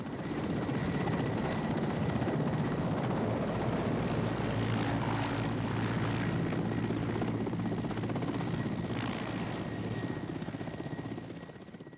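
Helicopter at Longyearbyen airfield in Svalbard, a steady loud rotor and engine drone holding for several seconds before easing slightly at the end.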